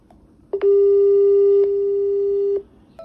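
WhatsApp video call ringing tone from a phone: a loud, steady electronic tone that starts abruptly, holds for about two seconds with a clicking break midway, then cuts off cleanly over faint room noise.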